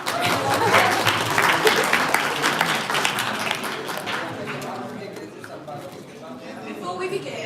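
Audience at a student officer elections event bursts into sustained clapping, loud and dense at first, then gradually thinning and softening toward the end, with some voices mixed in.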